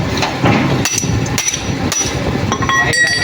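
Loud metal hammering on a truck differential during repair, a series of sharp ringing blows at irregular intervals over workshop clatter, no talk.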